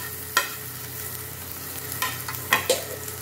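Chopped carrots, beans and capsicum sizzle softly in a pan for a ragi vegetable soup, with a few sharp scraping stirs of a spoon against the pan breaking through the steady fry.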